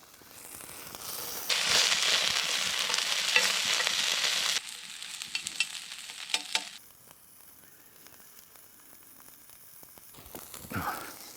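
Steak sizzling over an open campfire during off-grid bush cooking, a loud steady hiss that stops suddenly and gives way to quieter crackles and pops.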